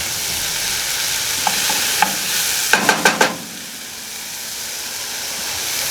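Tomatoes hit a hot pan with a brief burst of sharp crackles and sizzling, then settle into a softer, steady hiss close by, with no one talking.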